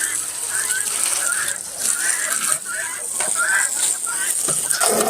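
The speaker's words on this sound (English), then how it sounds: "If you hear those are not chickens, those are guineas. And they are yelling" Loud, harsh repeated squawking calls from several guinea fowl, overlapping in a noisy chorus outdoors.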